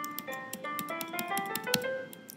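A major scale is played on a keyboard starting from C, one quick note after another climbing steadily upward. Each tone rings clearly, close and alone, with no talk.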